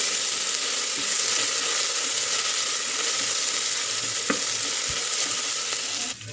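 Garlic and ginger paste frying in a pan for mutton biryani: a loud, continuous close sizzle with a few soft spoon scrapes and knocks as it is stirred, no voices.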